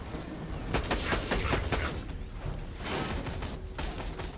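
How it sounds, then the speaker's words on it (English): A sniper minigun fires in Borderlands 2, giving rapid bursts of gunfire with dense repeated shots in the first half, then scattered reports and game action, all fairly close and loud. "Giving this sniper minigun a try."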